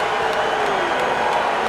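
A crowd at the Talladega Yellawood 500 NASCAR race gives a steady, distant roar of mixed reaction, a dense wash of many voices with no single sound standing out.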